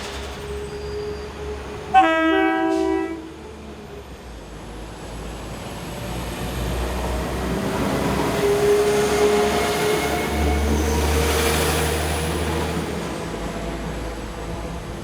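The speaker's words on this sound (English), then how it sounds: "The Class 168 is a diesel hydraulic multiple unit." A Class 168 diesel hydraulic multiple unit gives a brief two-tone horn blast, then passes with a steady rumbling engine and wheel noise that swells and fades over several seconds.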